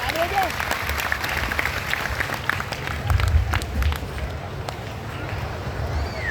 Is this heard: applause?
yes